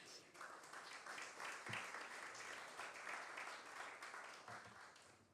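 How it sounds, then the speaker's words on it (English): An audience at the global launch of the Biennial Jamaica Diaspora Conference gives a round of applause for the team, a steady crowd clapping heard faintly and at a distance. "I think the team deserves a big round of applause."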